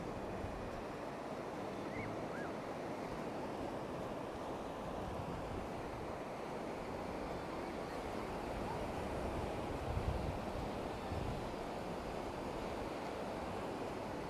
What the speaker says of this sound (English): Hear the water coming in, the waves.